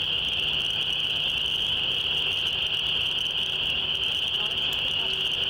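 Forest frogs call in a dense outdoor chorus, a steady high trilling drone that never lets up, with faint low background noise beneath.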